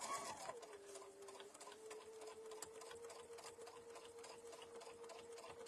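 Sewing machine running steadily while top-stitching an eighth of an inch in from the edge of a fabric mug bag, a continuous close, even motor whir that holds for several seconds with no talk.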